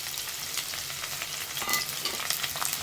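Long-sliced onion sautés in oil for a vegetable pulav, giving a steady close sizzle with occasional crackles and stirring scrapes throughout, no voices.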